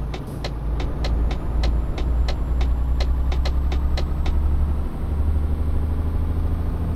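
Truck engine in the Euro Truck Simulator 2 video game, a steady low droning rumble with a regular series of light ticking clicks over the first five seconds, no talking.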